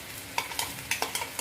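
Fresh ginger-garlic paste stirred into sautéing onion and tomato for hotel-style dal khichdi: a low background sizzle broken by a rhythmic run of sharp spoon scrapes and taps against the pan.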